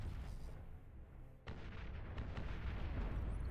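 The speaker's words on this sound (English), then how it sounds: "Like a bomb, a flamethrower bomber." A flamethrower bomber in the Beyond All Reason strategy game unleashes a deep rumbling blast over an ongoing low battle roar, with a sudden burst partway through followed by sustained booming and crackling.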